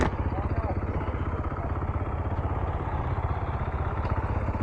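A Husqvarna motorcycle engine idles close by on a group trail ride, with a steady low chugging pulse that holds throughout and no speech over it.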